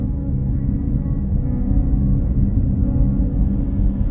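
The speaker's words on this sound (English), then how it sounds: "This packet is the noise of fish, organisms around the drone" Underwater in the Mediterranean around a drone, a dense low rumbling crackle of fish and other marine organisms fills the water steadily, with no human-made noise.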